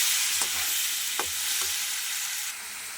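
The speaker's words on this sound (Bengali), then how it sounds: "আলুগুলোকে একটু লাল লাল করে ভেজে নেব।" Potatoes frying in oil until browned give a steady, close sizzle, broken by a few sharp taps of a spatula against the pan.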